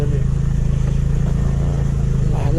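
A TVS Scooty Pep scooter rides off-road in Ziro Valley, its small engine giving a close, steady buzzing drone with a slight pulsing rhythm and no clear words over it.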